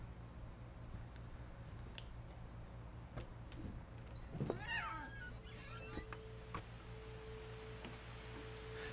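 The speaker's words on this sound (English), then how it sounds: "is that the cat?" A cat meows in the video game What Remains of Edith Finch, a single short call in the middle of a quiet, low ambient background.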